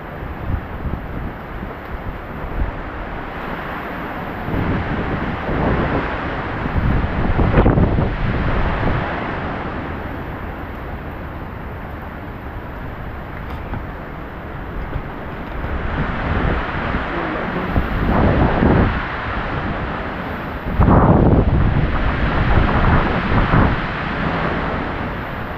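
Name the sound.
strong roaring wind during a typhoon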